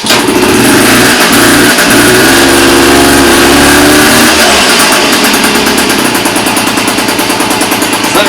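A Honda Dio scooter engine under repair runs loud and close, its uneven idle rising and falling in rough revs with no steady rhythm.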